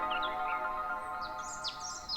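Animated mynah birds, just freed from a cage, give a few quick, faint, high chirps as they fly off over a soft sustained tone.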